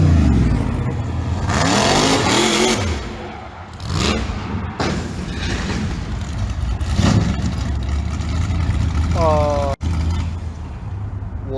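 A ToyMakerz Willys drift car with an LS engine revs loudly through most of the stretch amid crowd noise at a racing show, with a sharp impact near the end suggesting the crash.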